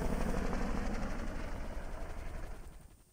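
An army helicopter in GTA 5 drones continuously with rhythmic rotor thumping, loud and close at first, then fading away toward the end.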